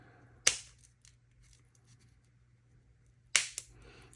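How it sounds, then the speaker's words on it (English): Scissors snip through folded paper while a paper snowflake is cut out, two sharp close cuts a few seconds apart with faint rustling between, over a low steady hum. "And use your scissors to kind of come down."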